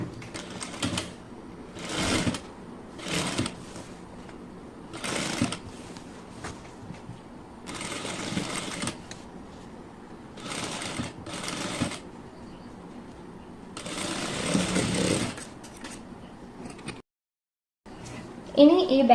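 A home sewing machine stitches a back-neck cross piece of a garment in repeated short bursts, each run of rapid needle clatter separated by pauses, with a voice nearby between the runs.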